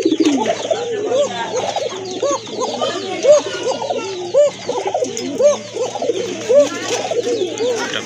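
Domestic and imported pigeons at a bird sale coo repeatedly in overlapping, rolling phrases, close and fairly loud, with a steady low background hum and some faint chatter.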